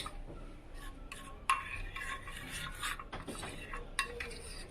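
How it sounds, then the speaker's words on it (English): SCI powder being stirred in a bowl for a homemade green tea gel face wash, with scraping and clinking of a utensil against the container, close and moderately loud, in irregular bursts with no talk. "we'll just go ahead and give a good mix to the SCI powder"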